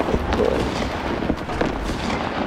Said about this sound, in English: there's a lot of um, artillery going off.